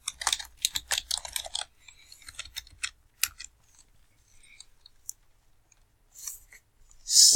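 Rapid clicking keystrokes on a computer keyboard in bursts, close and fairly faint, with quiet pauses between runs and a brief louder noise at the end.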